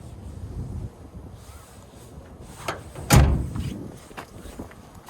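The tailgate of a 2026 Nissan Frontier S is let down and shut outdoors: light creaks and rattles lead to one firm metallic thud, all under gusty wind noise.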